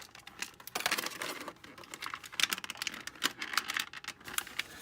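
Packaging bands on a He-Skeletor action figure being snipped and pulled, a run of quick close clicks, crinkles and light rattling taps at an uneven rhythm, with no voices.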